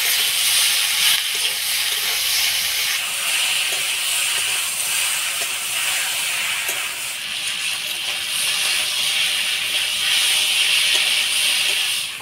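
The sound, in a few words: steamed taro stolons and dried shrimp sizzling while stirred in pan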